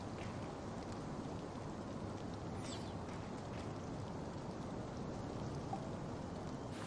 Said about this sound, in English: And it's actually raining outside right now.